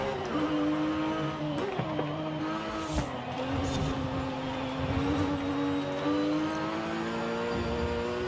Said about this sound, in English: You hear the transmission or the diff as well, just making noise.